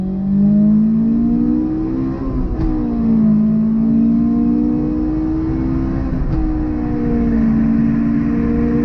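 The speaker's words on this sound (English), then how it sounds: "we're going to give a little acceleration pull. Second gear for it." The engine of a sports car, in a comparison of a Ford Mustang GT350 and a Honda S2000, pulls hard in second gear. It is a loud, steady droning roar heard from inside the cabin, with its pitch swelling and easing as it accelerates.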